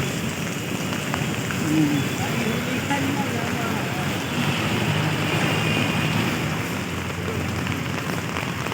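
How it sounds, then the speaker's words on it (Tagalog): Light rain falls in Metro Manila as a steady, dense hiss of drops on surfaces, fairly even throughout with slight swells, a faint low hum underneath. "kunting kunti na lang ang ulan"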